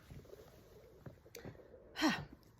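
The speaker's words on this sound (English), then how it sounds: "I gotta sneeze." A single sharp sneeze from a person, close and brief, after a few quiet breaths in an otherwise still room.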